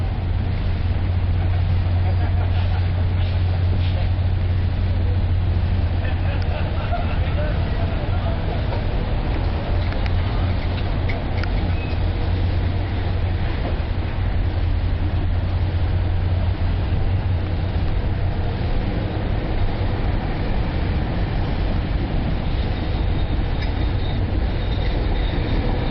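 Train number 14 departing, a steady loud rumble of rolling railcars and wheels on track heard from close by, with occasional faint squeal, continuous throughout.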